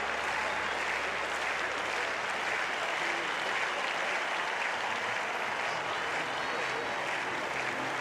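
A large stadium crowd claps steadily at an athletics javelin event at the 2022 European Championships in Munich, a dense, even wash of applause that holds for the whole stretch.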